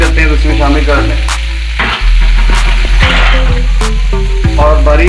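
Chicken frying in a pan with green onion added, a loud close sizzle and clatter of stirring, with background tones and thuds running through it.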